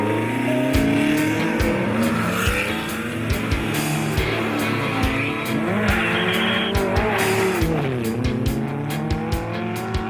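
Historic rally cars, including a Renault 4, parade through Bonnet le Froid during the Monte-Carlo Historic Rallye, engines revving loudly and continuously with tire squeals and passing cars, no talking.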